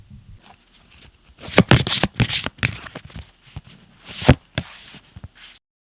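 Tarot cards are handled while drawing the last card: a run of crisp, close riffling and slapping bursts in uneven clusters, then silence, with no voices.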